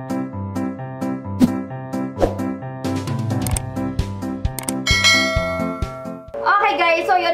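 A notification bell sound effect rings out over a rhythmic music backing, with clicks and chimes building to a bright, sustained ding near the end.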